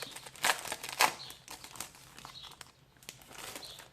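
Crinkly plastic packaging of a Carabelle stamp is unwrapped close by, with two louder crackling bursts near the start and softer rustles and crinkles afterward.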